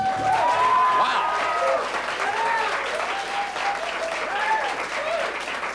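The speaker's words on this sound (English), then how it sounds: "what you're seeing the rest of the contestants do is what we call here on the Hoosier Millionaire the courtesy clap" Contestants on the Hoosier Millionaire game show give a courtesy clap, a steady round of applause from a small group under music and a voice talking.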